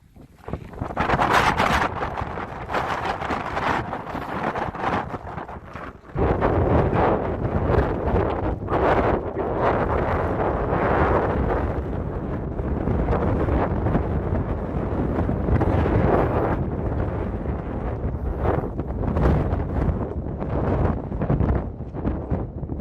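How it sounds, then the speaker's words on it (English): Strong wind roars through a Nevada desert canyon near Lake Mead, loud and continuous with heavy buffeting against the microphone and gusts swelling and easing over about twenty seconds, with no voices. "I'm going to turn around into some roaring wind"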